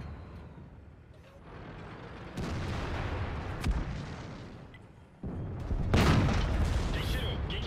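Tank cannon shots and shell hits in World of Tanks, heard as deep booming blasts and rumbling impacts that swell in loudness, with a strong burst near the end over continuous engine rumble.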